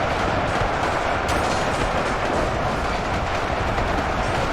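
Sustained battlefield gunfire in the war game UEBS2, with bullets striking tanks, a dense continuous roar of rapid shots and impacts at steady loud level throughout.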